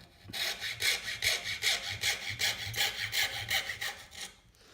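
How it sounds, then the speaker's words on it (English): A junior hacksaw cuts MDF at an angle in about a dozen quick, even back-and-forth rasping strokes, close and fairly loud, with no talk, ending in a short pause. "I'm going to put the MDF, in this way now, and I'm just going to cut down at this angle"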